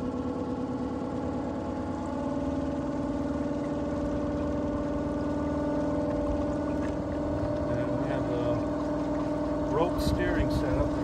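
A small electric boat motor gives off a steady, low whirring hum with a faint tonal whine. It runs evenly throughout over light water sounds.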